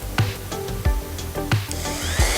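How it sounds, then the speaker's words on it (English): Wood cabinet parts for a wall cabinet get a light sanding, heard as a close, rasping power-tool hum with repeated sharp scuffs and knocks recurring every half second or so, with no talking. "we want to just give this a light sanding because it's the last chance we're going to have to do that"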